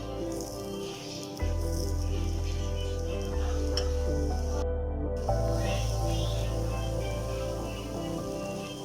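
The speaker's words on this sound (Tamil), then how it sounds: "இந்த மாதிரி நம்ம ஒன்று ஒன்றா போட்டு ஃப்ரை பண்ணி எடுக்கணும்" Slices of elephant foot yam fry in shallow oil, making a continuous crackling sizzle that grows fuller after a moment and holds steady, with a short dip near the middle.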